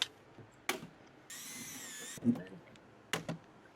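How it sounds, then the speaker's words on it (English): A power drill with a dull bit whines steadily for about a second amid scattered clanks and taps of metal work on brake metal window covers, with a brief voice nearby. "This drill bit must be dull."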